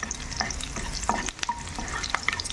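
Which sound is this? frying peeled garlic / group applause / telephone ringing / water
frying peeled garlic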